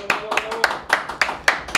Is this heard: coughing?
no